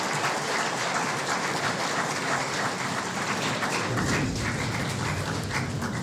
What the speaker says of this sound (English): we wish to give all of the substantive appointments a round of applause this morning